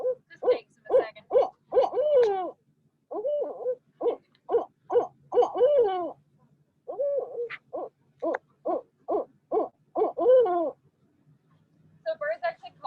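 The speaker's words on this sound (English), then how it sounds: "So birds actually call to each other for a lot of reasons." A bird, likely an owl at a wildlife rehab centre, gives a long series of short hooting calls in quick rhythmic bursts, close and clear, with brief pauses between groups.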